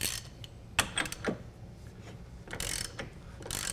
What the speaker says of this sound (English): we're going to snug up the axle nut, and then we're going to set the torque specification